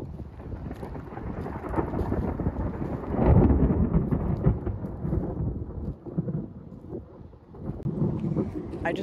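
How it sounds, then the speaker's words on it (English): Low rumbling thunder rolls in the distance, swelling and fading over several seconds, with rain and wind noise underneath. "Did you hear that thunder?"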